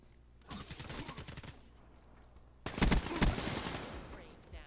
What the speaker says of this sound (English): I know somebody was shooting at me.